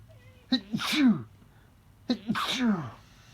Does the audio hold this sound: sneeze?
yes